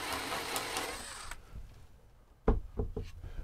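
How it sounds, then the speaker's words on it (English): A power drill with a 5/16 inch bit bores into fake wood on an RV barn door, a steady whirring buzz for over a second, then quiet and a few sharp knocks and bumps nearby. "Let's get this drilled out."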